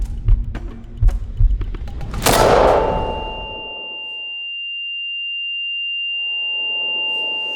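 An unsuppressed Swiss SIG 551-2 LB rifle fires a quick series of sharp, loud shots, ending in a heavy blast followed by a long, steady high-pitched ringing tone that fades out and then returns.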